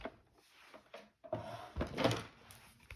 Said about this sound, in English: these embossing folders are pretty tight. So I'm just going to go kind of slow here and kind of clunk at the end